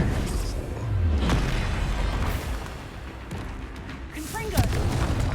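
Expulso explosion spells in Hogwarts Legacy, deep booming blasts rumbling under continuous game sound, with a voice talking over them.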